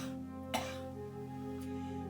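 A single faint, short cough sounds once, alone against a low steady background hum during a storybook reading of Miss Spider's Tea Party.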